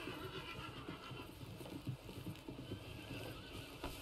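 In Red Dead Redemption a horse gives a faint whinny and snorts amid busy background noise and shuffling, the sounds low and somewhat masked rather than standing out clearly.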